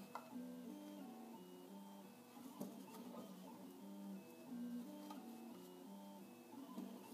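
A Prusa 3D printer prints Nylon 6 through a 0.4 mm nozzle, its stepper motors whining in shifting stepped tones with soft ticks as the head moves, steady and fairly quiet, close by.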